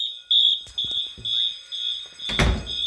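Wheelock MT fire alarm horn strobe sounds a loud, high electronic horn in repeated pulses, close by, with clunks and a heavy thump near the end.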